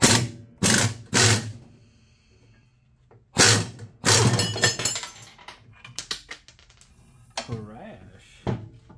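Bursts of an impact wrench with an impact socket hammering loose a part on a John Deere lawn tractor with a broken axle and tie rod, several loud short rattling bursts with pauses and someone talking.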